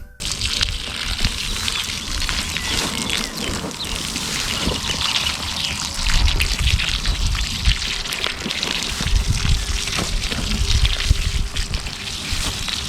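Liquid fertilizer diluted with water is poured from a can over garden vegetables, a steady close splashing gush that runs continuously with no speech.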